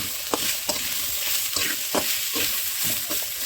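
Tomato chutney frying in a pan: a continuous hot sizzle with regular scraping stirs of a spoon, close and fairly loud.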